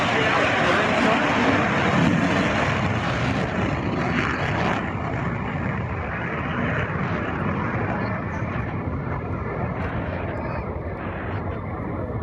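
STOL aircraft propeller engine running up at the Columbus Airshow drag race, a loud sustained roar that holds steady for several seconds with a commentator talking over it.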